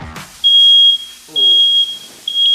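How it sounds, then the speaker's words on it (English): A smoke alarm goes off while breakfast is being cooked, sounding loud, piercing, steady beeps in long sustained bursts with short gaps between them, and a brief muffled voice can be heard underneath. "If you're not setting off the fire alarm"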